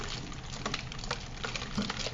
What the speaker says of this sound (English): we can see that the water starts to flow through more and faster